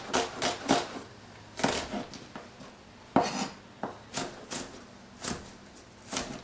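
A knife slices beef lengthwise into thin, long strips on a cutting board, sharp irregular taps landing every half second or so, close and fairly quiet, with no talking.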